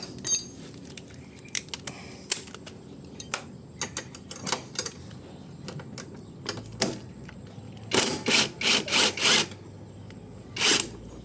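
Socket wrench loosening the side stand bolts on a Yamaha Ego LC 125 scooter: scattered metallic clicks and taps, then a quick run of ratcheting bursts near the end, close and clear.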